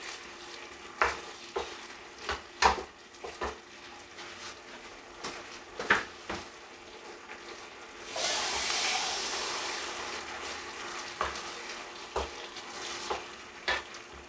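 Steady sizzling from a hot pan as coconut milk fries for Panang curry, with scattered clinks and scrapes of a utensil stirring, and a louder hiss surging midway as liquid hits the heat.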